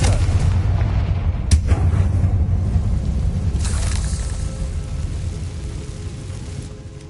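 Hogwarts Legacy on PS5: a Confringo blasting spell hits with a sharp crack, inside a heavy, continuous low rumble that rolls on for several seconds and gradually thins out, with no speech.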